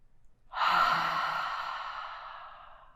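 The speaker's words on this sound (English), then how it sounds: "we're going to release it with an H-A, ha, audible sound out the mouth" A long audible exhale out of the mouth with a breathy ha sound during a seated chair yoga breathing exercise, one close, drawn-out breath that fades gradually, with no talking.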